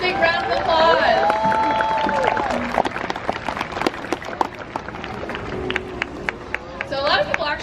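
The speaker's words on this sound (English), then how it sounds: "let's give them a big round of applause" A large crowd at the SeaWorld San Diego Orca Encounter killer whale show applauds in a dense, steady wash of clapping, with cheers and chatter mixed in throughout.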